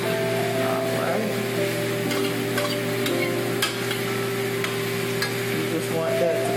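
Food stirred and frying in a pan with garlic and marinara sauce, a steady close sizzle and scraping under light background sound, continuous throughout.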